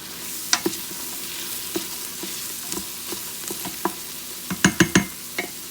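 Onions sautéing in an Instant Pot, a soft steady sizzle broken by sharp metallic clinks and scrapes of a utensil stirring against the inner pot, with a cluster of louder knocks near the end.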